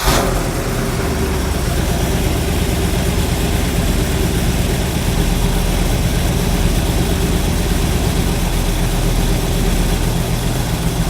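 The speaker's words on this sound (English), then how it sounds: "So we'll go ahead and fire it up." A stock 327 car engine running just after a carburetor install, a loud, steady low rumble of idle held close by for the whole stretch with no talk.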